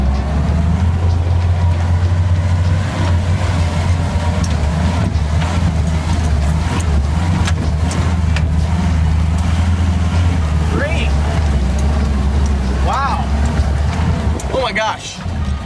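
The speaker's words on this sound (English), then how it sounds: "Okay, now it's time to take the Roxor up the same slope. We're gonna try it in the same low range second gear." A Mahindra Roxor off-road vehicle climbs a sandy slope in low range second gear, its engine droning steadily and loudly throughout with a deep constant rumble, and voices are heard over it near the end.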